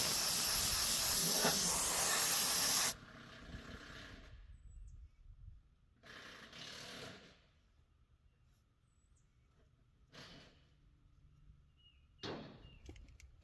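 Compressed air blows debris off a Bobcat walk-behind mower deck: a loud, close hiss for about three seconds, then several shorter, fainter bursts of air separated by quiet gaps.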